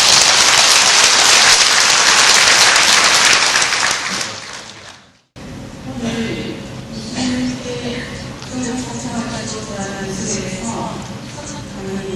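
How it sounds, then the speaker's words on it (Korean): Loud, dense applause from a crowd at an entrance ceremony fills the first few seconds, then cuts off, followed by quieter talk. "다 같이 이번 성공을 위해서 박수로 쳐드립니다."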